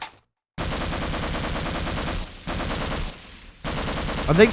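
Rapid automatic gunfire in the video game Half-Life pours out in loud, sustained bursts, broken by brief pauses between volleys.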